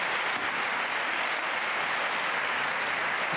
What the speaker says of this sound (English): A well-deserved round of applause for everyone.